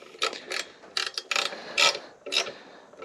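A ratchet tightens a bolt on a Honda Trail 125 center rack in short, close bursts of quick clicking, each separated by a brief pause.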